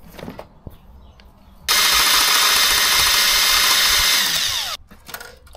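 A power drill bores into metal on a Moto Guzzi V7 motorcycle, one steady high whining run of about three seconds between quiet workshop clatter, close by.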